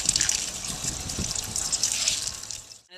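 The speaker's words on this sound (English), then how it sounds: "And I'm just going to rinse them here." Running water rinses blackened rocks outdoors, a steady close gush and splash that continues for a few seconds and then cuts off abruptly.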